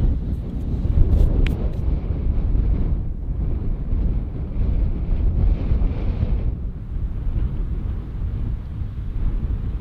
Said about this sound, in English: I'm just gonna have to suffer the wind for the night